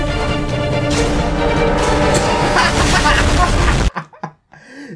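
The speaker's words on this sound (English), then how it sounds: "Okay, rocket launcher out of nowhere." A rocket launcher explosion in a Shrek FNAF remake video game: a loud, sustained roaring boom that fills the first four seconds and then cuts off abruptly, followed by a few faint bursts and near silence.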